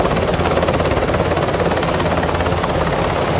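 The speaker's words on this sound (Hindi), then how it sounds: "चलो इस हेलीकॉप्टर को उड़ाते हैं दोस्तों" A toy helicopter flies with a loud, steady whirring drone of its rotor and motor, continuous and close throughout, with no talking.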